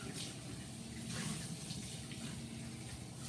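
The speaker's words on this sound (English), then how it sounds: "let me rinse this off" Steady broadband rush of tap water running while a kitchen utensil is rinsed off after whipping cream, continuous and fairly even throughout with no talk over it.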